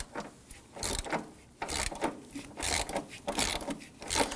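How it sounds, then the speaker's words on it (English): A socket ratchet works on the transmission mount nuts of a 2008-2011 Ford Focus, clicking and ratcheting in repeated uneven strokes up close, with short pauses between pulls. "So we're going to use our 15mm socket. I want to break these free."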